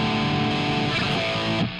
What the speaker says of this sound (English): definitely a lot more distortion.